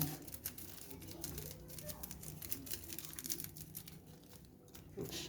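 Paper crinkles and tears in short, uneven bursts as a chili-sauced egg roll is wrapped up, close and fairly quiet, with no talk over it.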